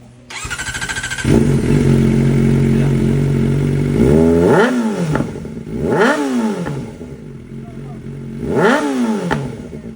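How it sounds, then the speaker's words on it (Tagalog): Motorcycle with its exhaust pipe still fitted, tested just before the pipe is swapped: the engine starts and idles with a steady throb, then three sharp revs rise and fall in succession, loud and close. "Bago natin palitan yung pipe, quick sound check muna"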